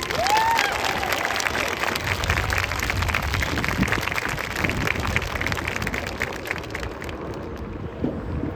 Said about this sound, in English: Please give all of the graduating classes a very deserving round of applause.